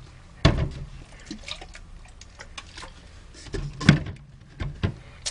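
Small splashes and drips of water while gathering it to clean a laser printer's charge roller, with a few sharp irregular taps and trickles and quiet gaps between them.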